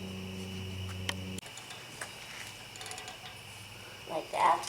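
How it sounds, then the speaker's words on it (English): Bolts being tightened on the back of a car brake caliper during a brake rotor and pad change, with faint mechanical ratcheting clicks and a hum that cuts off, then quiet clatter and a brief louder burst at the end. "So we're just tightening up the 2 bolts on the back of the caliper"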